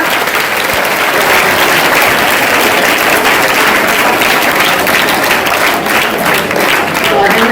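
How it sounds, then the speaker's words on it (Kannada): Sustained applause from an audience at a residential school event, dense and steady clapping filling the whole stretch at even loudness, with a faint murmur of voices underneath. "ಸೊ ಇದಕ್ಕೆ ನಾವೆಲ್ಲರೂ ಒಂದು ದೋರಾದ ಚಪ್ಪಾಳೆ ತಟ್ಟಬೇಕಲ್ವಾ"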